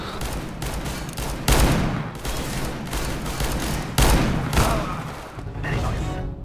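R8 Revolver gunfire in CS:GO deathmatch, a rapid string of loud, punchy reports with heavier booming shots around the middle, dense and continuous with no speech over it.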